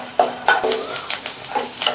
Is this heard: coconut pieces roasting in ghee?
yes